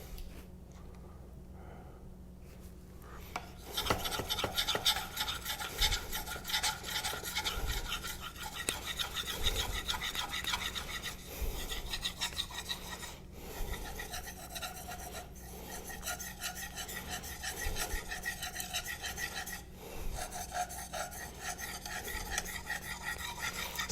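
Convex knife edge rasping steadily against a Naniwa diamond whetstone, a continuous gritty scraping of repeated strokes that starts faint, then runs loud and close for about twenty seconds with brief pauses between passes.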